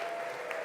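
A live audience claps steadily in a brief burst of applause, voting on Easter costumes at an Easter Sunday gathering.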